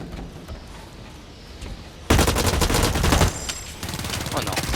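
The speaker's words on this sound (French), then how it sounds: "Ah, j'aime bien cette arme, elle est trop bien. Mitrailleuse tactique." A tactical machine gun fires in the online shooter Blacklight Retribution: after a quieter stretch of game ambience, a loud, sustained burst of rapid automatic fire erupts, then short follow-up bursts continue amid battle noise.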